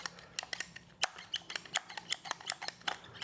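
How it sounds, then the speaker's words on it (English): A PVC cutter ratchets through CPVC water supply pipe in a quick series of sharp, close clicks and snaps, with a few louder cracks as the blade bites. "You want a good cut. Any PVC cutter will work."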